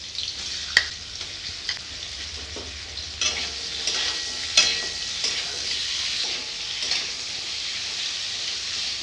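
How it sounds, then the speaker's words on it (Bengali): Thin-cut, salted potatoes fry in hot oil, giving a steady close sizzle and crackle with occasional scrapes and clinks of stirring throughout, no talking. "আলুগুলো ভাজা হয়ে গেছে"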